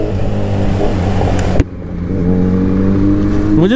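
Kawasaki Ninja motorcycle engine at close range: a steady mid-pitched drone, a sharp clack partway through, then the revs climbing toward the end.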